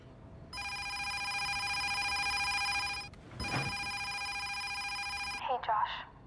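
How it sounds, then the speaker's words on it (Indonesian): A telephone rings loudly in two long electronic trills with a short gap between, followed by a brief burst of speech. "tiba-tiba saja telepon rumahnya berbunyi."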